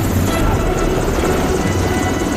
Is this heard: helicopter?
yes